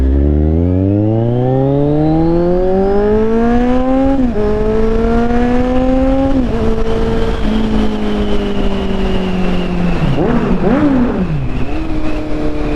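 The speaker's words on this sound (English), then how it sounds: "I just love the sound of this bike." A Kawasaki Z1000R with a Black Widow exhaust and de-cat revving hard inside a tunnel, its loud engine note climbing in pitch through gear changes, with dips and rising pulls echoing around the enclosed space and no talk.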